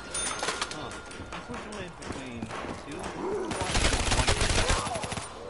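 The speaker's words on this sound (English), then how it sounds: "I should be using this gun so I can run out of ammo and switch it" Video game gunfire rattles in rapid bursts, growing denser and louder toward the end, mixed with game effects and a voice talking over it.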